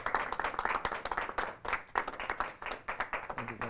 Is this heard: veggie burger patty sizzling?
no